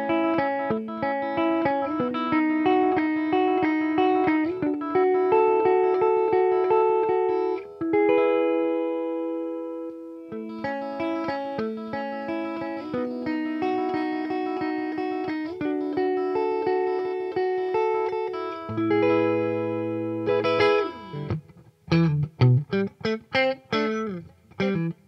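Fender Boxer Series Stratocaster electric guitar played through its single-coil pickups, ringing chords and picked runs that sustain loud and up close, ending in a burst of sharp, choppy strums with no talking.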